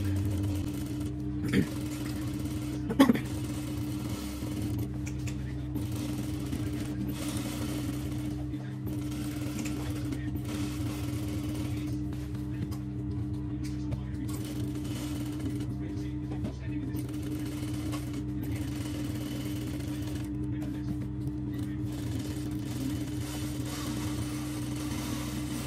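A sewing machine stitches the neckline of an Arab kandura, running as a steady mechanical hum for the whole stretch, with someone speaking over it now and then.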